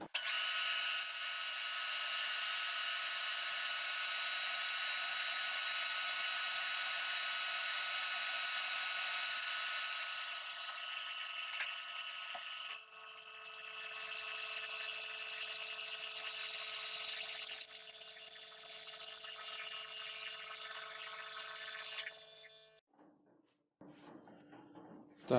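Power drill boring a hole with a 22.5 mm bit, a long steady high whine under load that shifts pitch midway and stops near the end, close, no talk.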